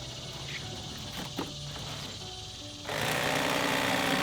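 Electric fillet knife buzzing steadily as it slices through a fish being cleaned, likely a longnose gar, catfish, bass or snakehead, a close motorized whine with a brief pause before it starts up louder and keeps running.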